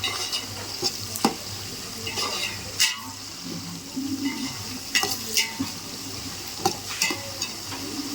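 Onions, green chilies, mint and coriander sizzle and fry in a pot for chicken biryani, with steady frying hiss under repeated stirring clanks of a spoon against the pan, close and fairly loud.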